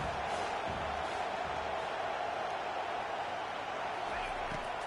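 Steady roar of a stadium crowd in a college football video game, UNC at Washington, swelling on a third-down defensive stand; continuous dense crowd noise throughout, with faint calls underneath.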